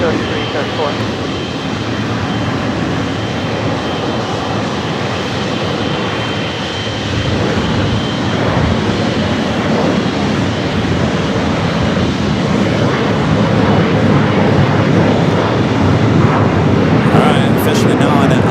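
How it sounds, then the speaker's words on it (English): An American Airlines jet takes off from runway 25 right at LAX, a steady broad engine roar that swells slightly in the second half and holds strong throughout, with radio-style talk present. "We have a takeoff, American 3334."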